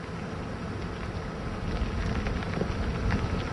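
A strong typhoon wind roars steadily in Ilocos Norte, a broad, continuous rushing noise that swells slightly louder partway through, with no voices.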